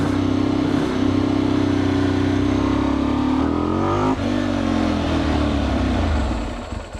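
Ducati 999S sportbike, rebuilt after being written off, revs hard through a wheelie on a cold day, its engine note droning loud and close, climbing then briefly dipping and pulling on steadily.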